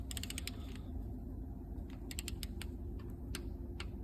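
Torque wrench tightening a bolt on a Scania engine during a rebuild, giving several short, sharp ratcheting clicks in small clusters over a steady low workshop hum, close and moderately loud with no talk.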